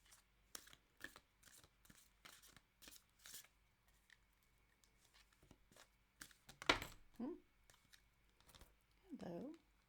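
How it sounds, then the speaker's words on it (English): Tarot cards riffle and snap in quick, soft bursts, followed by a few faint taps and shuffles in a quiet room. "I'm going to go ahead and shuffle the cards now."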